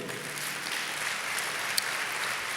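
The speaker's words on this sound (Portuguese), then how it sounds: "Dê uma salva de palmas a Ele." A church congregation applauds, a continuous, even wash of many hands clapping at moderate loudness, steady for under three seconds with no voices over it.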